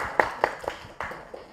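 Scattered, faint claps at a press conference, a few separate slaps spaced unevenly over a low room murmur rather than full applause.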